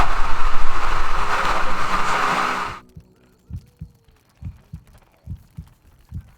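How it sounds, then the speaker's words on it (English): In the video game Overlord, a low-health heartbeat thumps in slow, paired beats, six to seven distinct thuds, after a loud burst of noisy game ambience cuts off abruptly, leaving the beats nearly alone. "You can hear my heartbeat."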